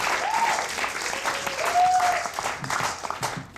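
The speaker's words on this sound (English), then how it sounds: "let's give a round of applause to osagyefo for putting this event on" Audience applause at a live spoken-word event, a steady burst of clapping throughout, with a voice briefly calling out over it.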